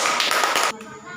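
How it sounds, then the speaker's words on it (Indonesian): A school class clapping hands together in a classroom during a biology lesson, a dense burst of many hands that stops abruptly, leaving quiet room tone. "Tepuk tangan"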